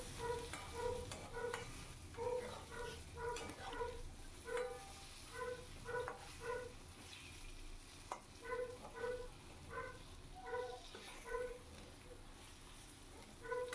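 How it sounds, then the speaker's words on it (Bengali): Eggplant seasoned with salt and turmeric fries faintly in a pan while a utensil stirs it in steady, rhythmic scrapes over a low, even sizzle, with no talk. "নুন হলুদ দিয়ে বেগুনটাকে সুন্দর করে হালকাভাবে ভেজে নেব।"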